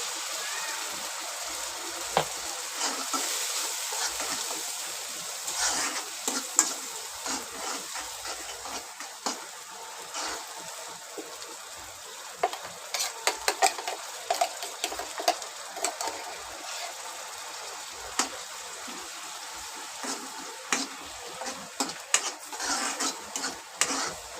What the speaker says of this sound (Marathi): तर हा आता मी मसाला याच्यामध्ये घालून घेणार आहे